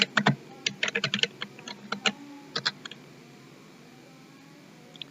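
A computer keyboard clicks through a quick burst of keystrokes as a username is entered, the close, crisp taps clustering in the first three seconds before quiet.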